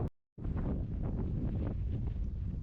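Strong wind buffets an outdoor microphone on a cattle ranch, a loud continuous rushing roar with gusty swells after a brief silent gap at the start.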